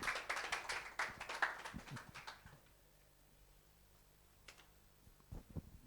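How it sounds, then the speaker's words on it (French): A small audience at an online business webinar gives brief, sparse applause. A few faint hand claps sound for about two seconds, followed by near silence with occasional soft ticks. "Sous vos applaudissements, s'il vous plaît."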